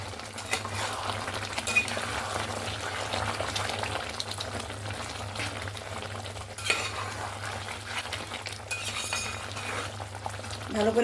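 Spoon stirring a masala of hot chili powder, Kashmiri chili powder and coriander powder in a pan for a country chicken dish, with steady scraping and soft sizzle plus occasional clinks, close and continuous without speech.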